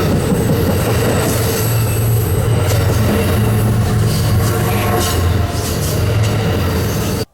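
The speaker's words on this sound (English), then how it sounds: "that sound of mid-train DPU like a GEVO makes when it just rumbles on by you" A freight train rumbles past close by, with a deep steady locomotive drone from a mid-train GE GEVO-type DPU, rolling wheel noise and occasional squeals, loud throughout before cutting off abruptly.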